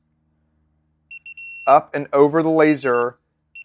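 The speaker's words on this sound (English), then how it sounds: "It will audibly beep." A daylight laser finder from a PLS kit, used while installing Fenetex screens on One-Tracks, gives short, faint high beeps in small bursts, partly under someone talking.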